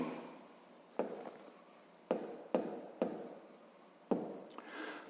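Pen strokes scratch across paper while a math exercise solution is worked out, a series of short close scribbling bursts separated by brief pauses, quiet and without talk.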